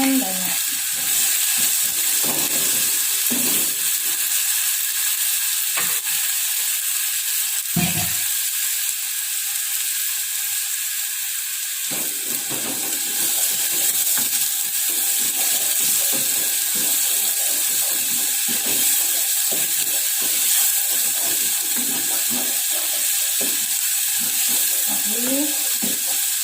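Blended spice paste cooking in a pan for a spiced banana dish, sizzling and bubbling steadily as the water cooks off, with occasional scraping stirs of a utensil against the pan.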